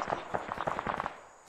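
Rapid burst of sharp cracks from a shotgun fired point blank in an Arma Vietnam-era campaign, a quick cluster of pops lasting about a second and fading out, fairly quiet.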